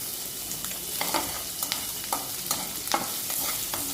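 Fenugreek seeds fry in a pan of hot oil for a potato, brinjal and capsicum vegetable curry, a steady soft sizzle broken by several sharp scraping stirs and light pops.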